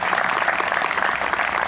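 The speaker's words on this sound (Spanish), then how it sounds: "los vecinos también necesitan y merecen el aplauso," An audience applauds dense and loud at a Spanish-language civic event where the head of government presents an image of the Virgin, a continuous crowd of clapping hands with no voices on top.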